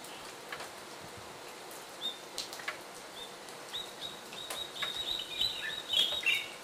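Faint morning bird calls and chirps rise over a steady hiss of typhoon rain, growing more frequent toward the end, at a distance.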